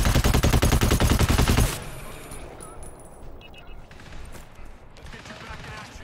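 Rapid automatic gunfire in the co-op shooter GTFO, a loud, dense burst of shots for under two seconds that cuts off into quieter background noise.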